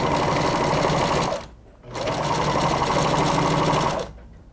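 Sewing machine stitching a straight seam joining the parts of a pineapple-shaped kawaii cushion, loud and close, running in two rapid mechanical bursts with a brief pause between them.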